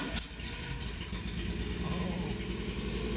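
A Datsun 280Z engine is started for the first time in 15 years: a steady, rough mid-pitched running note that stays close and loud and swells slightly as it is given gas.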